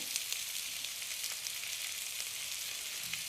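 Three large thinly sliced onions sautéing with salt in a pan for a crab roast, giving a steady, even sizzle with faint crackles throughout and no voices.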